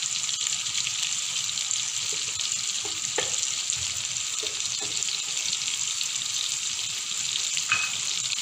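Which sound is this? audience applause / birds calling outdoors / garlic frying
garlic frying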